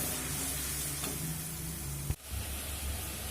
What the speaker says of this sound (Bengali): দেখুন ওদিকে তো মশলা কষানো হচ্ছে